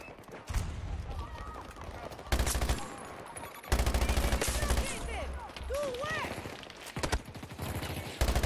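Gunfire in the video game Battlefield 2042 with an A-91 rifle setup, rapid bursts of automatic fire in several volleys with frequent short breaks, loud and close, mixed with other game sounds and bits of voices.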